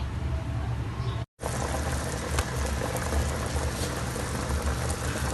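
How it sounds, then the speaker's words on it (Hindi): A pot of water with rice and moong dal for khichdi boils at a steady rolling bubble, close and continuous, broken only by a brief cut of silence near the start. "और ये पानी में बॉईल आ गया"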